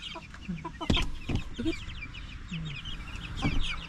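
Backyard chickens clucking while being fed, several birds close by with irregular overlapping clucks and short squawks over a low rustling background.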